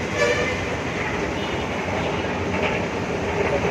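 A metro train rumbles steadily past at close range at Dilsukhnagar metro station in Hyderabad, a continuous roar of wheels and motor with no breaks.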